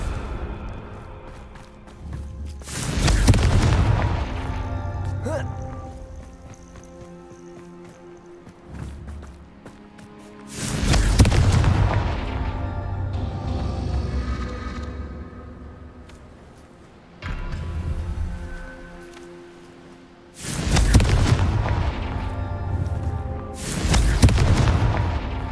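Confringo blasting spells go off in the Hogwarts Legacy video game, with four heavy booming explosions spaced several seconds apart, loud and close, each rumbling away into quieter game ambience.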